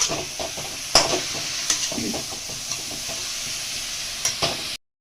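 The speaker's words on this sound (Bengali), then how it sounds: "এটাকে আমাকে ভালো করে কষিয়ে নিতে হবে এটাকে মিক্স করে নিতে হবে" Cabbage with cumin frying and being stirred in a pan, with paneer: a close sizzle broken by sharp spatula scrapes and knocks at irregular intervals, ending abruptly.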